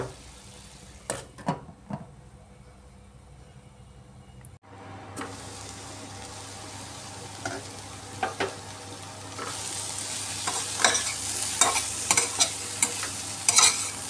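Cauliflower stalk curry sizzles and fries in a pan with a lid, with scraping stirs and clatter early on, then a steady close frying hiss that grows louder, with no voices.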